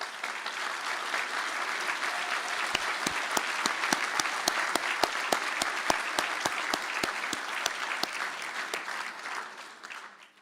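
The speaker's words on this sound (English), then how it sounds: "stand for a well-deserved round of applause" Engineering graduates stand at a university conferring ceremony in Galway to a long round of hall applause, sustained crowd clapping with a few sharp close claps standing out, fading away at the end.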